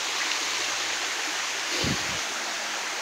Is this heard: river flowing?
yes